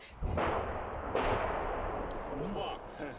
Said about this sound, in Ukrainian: Артилерія, авіація та танки працюють майже безперервно.